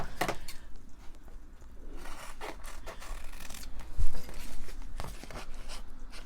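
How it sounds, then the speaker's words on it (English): Scissors snip through a sticker label being prepared for a case, with a series of close, crisp cuts and rustling of paper, the cuts coming at irregular intervals. "Definitely gonna need scissors."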